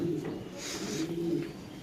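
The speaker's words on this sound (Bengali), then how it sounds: "ক্রিম বার রেসার কবুতর" A cream bar racer pigeon coos in a low, steady rolling murmur close by, filling the short moment with soft repeated throaty notes and no talk.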